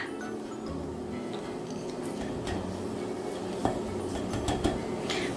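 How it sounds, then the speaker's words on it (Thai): Beaten egg white being stirred into egg yolk batter for a Taiwanese castella cake, with quick light scraping and occasional clinks of a utensil against the bowl, close up and fairly quiet. "คนเบาๆแต่ไวๆนะคะ"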